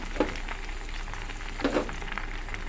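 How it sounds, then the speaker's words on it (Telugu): Washed gongura (sorrel) leaves fry in a hot pan with a soft, steady sizzle, close and continuous, with a couple of light stirring clatters. "గోంగూరని ఇలాగా మనం వేపాలన్నమాట."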